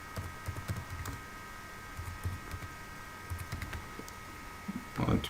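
Quiet, steady typing on a computer keyboard, a quiz question name being entered, with soft rapid key taps in short bursts and a slightly louder clatter at the very end.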